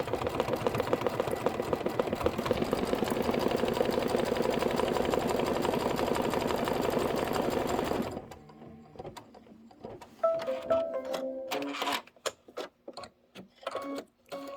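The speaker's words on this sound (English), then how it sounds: "the next step is going to be stitching the bottom of the card" A Kimberbell embroidery machine stitches the bottom of a card with a steady, dense mechanical whirr for about eight seconds, then stops; sparse clicks and soft handling noises follow.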